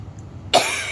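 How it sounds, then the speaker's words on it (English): A woman gives one short, sharp cough close by after a second of quiet background. "Excuse me, coughing."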